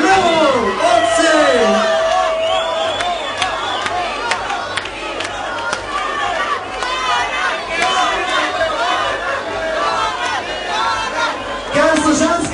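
A crowd at a live outdoor party event in Ljutomer, Slovenia, shouts and cheers loudly and without pause, and a loud amplified voice talks over the noise.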